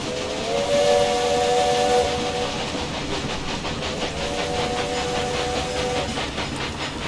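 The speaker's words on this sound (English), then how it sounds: "And there is the freight train going to pass us." A steam freight train in the Railway Empire video game hisses steadily as it passes, with a long steam whistle blowing twice over the rolling rumble and a rhythmic chuffing pulse.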